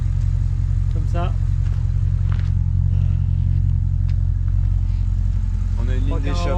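Audi RS5 with a custom stainless F-Town exhaust rumbling steadily at idle, a deep low drone running throughout while someone talks over it.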